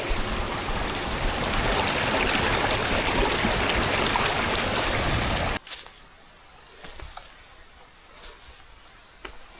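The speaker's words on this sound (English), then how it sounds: "This will be the last opportunity to fill up my water," Water rushes from a mountain stream as a bottle is filled, a loud, steady, close gurgling wash that cuts off abruptly after about five seconds, leaving quiet outdoor ambience.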